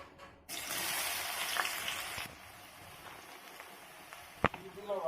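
Chopped carrots tipped into hot ghee and white oil in a pan give a loud, steady sizzle and hiss for about two seconds, then a quieter crackle with a single sharp clatter near the end.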